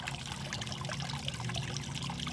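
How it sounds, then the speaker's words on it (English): Water trickles steadily from a 50-gallon drum down into a backyard pond, a close, continuous splashing dribble with no pauses and no talking. "I got that water coming from that 50-gallon drum up there."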